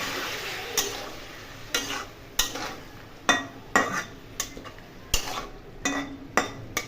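A cooked wheat-flour (atta) snack is stirred with a little reserved water added, a spoon scraping and knocking against the pan in repeated sharp strokes roughly every half second to second over a soft, low background.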